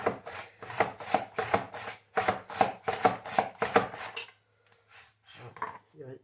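A foldable portable mandoline slices potatoes into fries in a rapid series of about a dozen close, crisp rasping strokes, steady and rhythmic, then a few lighter scrapes as the slicing tapers off.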